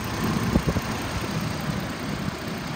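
A 2008 Chevy Trailblazer LT SUV idles smoothly after long running, giving a steady low engine drone with a couple of faint knocks near the start.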